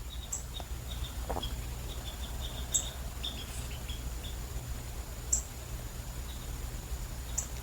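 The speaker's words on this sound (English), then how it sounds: "a bird was just yelling out, chirping out hard." A small bird chirps faintly in the distance in short, high, scattered bursts over a steady low hum, with no one speaking.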